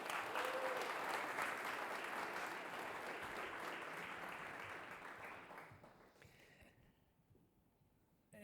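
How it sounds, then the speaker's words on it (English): Church congregation giving a sustained round of applause, steady and fairly dense, tapering off toward the end before falling quiet. "Can you guys give these guys a golf clap?"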